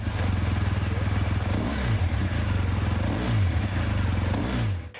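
Loud, close BMW R 1250 GS twin boxer motorcycle engine with a deep pulsing exhaust note, idling then blipping the throttle in a few short revs.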